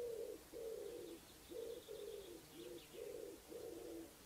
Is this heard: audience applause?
no